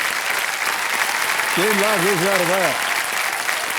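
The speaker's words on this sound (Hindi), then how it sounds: "तालियां बज जाएं इनके लिए।" Studio audience applause on the KBC (Kaun Banega Crorepati) quiz show set, a steady broad clapping wash throughout, with the host's voice speaking over it partway through.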